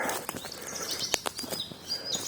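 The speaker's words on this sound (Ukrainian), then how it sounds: "Два рідких птаха, чорноголовка." Blackcap song in the open: several quick, bright chirps and short warbling phrases, fairly faint and scattered, with light rustling in the background.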